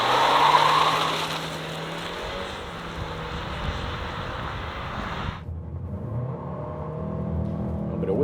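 A Chery Tiggo 4 Pro in sport mode pulling hard from standstill to 100 km/h, engine droning loud and close with a rising whine that cuts off sharply as it shifts, then builds again.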